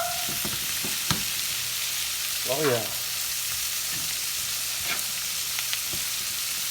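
Bacon and onions sizzle steadily across two frying pans, a continuous close hiss with occasional clinks and scrapes, while a man makes a short remark over the cooking.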